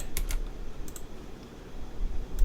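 Computer keyboard typing in quiet room: a few quick, soft key clicks in small clusters near the start and end, faint and close, with a low hum between.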